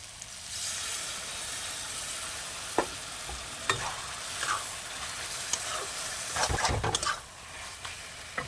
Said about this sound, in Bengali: মশলা দিয়ে ভালো করে আমি নাড়িয়ে কষিয়ে নিয়েছি এবারে দিয়ে দেবো সর্ষে বাটা